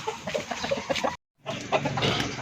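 Hens (mother hens) cluck softly and repeatedly at close range, with a short silent gap midway before the clucking resumes.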